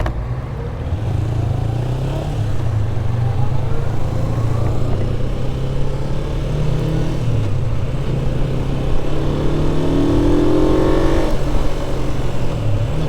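A motorcycle cruises steadily on a road in Adelaide, its engine droning loud and continuous with slight shifts in pitch, and wind rushing over the rider throughout.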